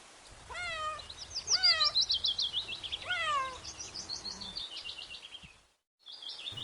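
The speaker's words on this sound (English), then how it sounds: "C for cat" A cat meows several times in a row, with bright, rising-and-falling cries that sound close and clear, punctuated by brief pauses, plus a short final meow after a moment of silence.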